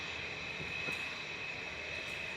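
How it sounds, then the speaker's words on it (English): A Lufthansa Airbus A320 Classic jet passes at an airport, a steady broad engine roar with a faint high whine, distant and unbroken. "Flight 2501, heading back to Munich. This is DAIZP, a 12-year-old A320 Classic."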